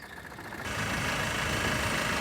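A Tata Sumo or Tata Manza car engine idles steadily, then revs up and holds a louder, constant running drone with no voices.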